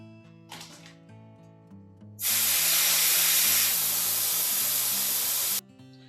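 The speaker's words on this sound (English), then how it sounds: "I would put the valve stem at the top, and we need to let out all the air" Air rushing out of a Tesla Model 3 tire through its valve stem, a loud steady close hiss lasting about three seconds before cutting off, over soft background music.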